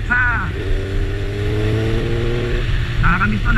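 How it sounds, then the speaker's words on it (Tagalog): A motorcycle engine drones steadily while riding, with rising and falling engine tones and some voices over the rumble. "Yung ingay ng motor natin."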